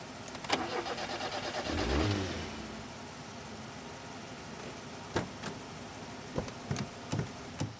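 Car engine cranking repeatedly but failing to start, a grinding turnover surge followed by scattered clunks and short bursts.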